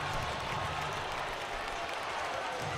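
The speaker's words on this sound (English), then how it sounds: "And you can hear that in the crowd reaction." Hockey crowd roaring in reaction to a fight between the Pee Dee IceCats and Athens Rock Lobsters, a steady, loud wash of cheering and clapping that fills the whole moment without letup.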